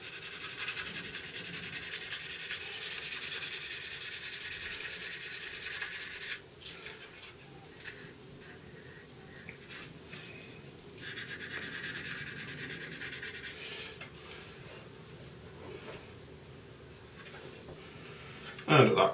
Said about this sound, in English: where I've sanded this join line here in the little step